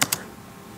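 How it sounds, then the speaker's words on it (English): Two quick keystrokes on a computer keyboard, close and crisp, followed by quiet. "I am right now typing in the command window"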